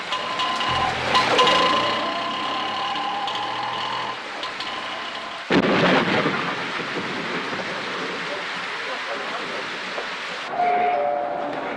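Steady heavy rain hisses throughout a film scene at Chennai Central railway station, with low rumbling and a couple of louder swells that could be thunder; no voices.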